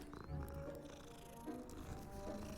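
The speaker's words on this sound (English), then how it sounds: "Hello, cat." A cat in Hogwarts Legacy gives a faint, low purring rumble with soft meow-like tones, quiet against a background of game ambience.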